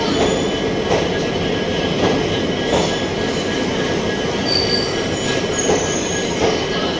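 Ranakpur Express hauled by a WAP-5 electric locomotive rolls steadily past at close range, a loud continuous rumble with rhythmic wheel clacks and high thin squeals from the wheels; no talking.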